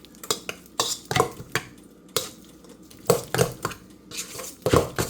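Butter and cream cheese are creamed together in a bowl, a close, busy run of utensil clacks and scrapes against the bowl with irregular louder knocks throughout.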